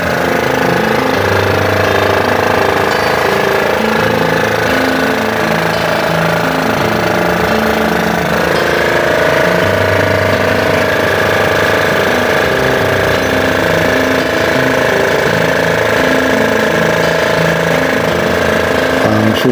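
A generator engine runs steadily throughout, loud and close, with a constant mechanical chugging drone that shifts slightly in pitch partway through, and no talking.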